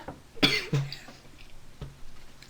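A person coughs sharply a few times, with a throaty clearing sound between the coughs, close up in a quiet room during a casual podcast recording.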